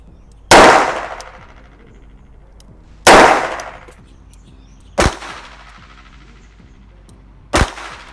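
Four blank-gun shots are fired at close range into a target. Each is a sharp, loud crack that rings out briefly, spaced a few seconds apart, with the later two slightly quieter.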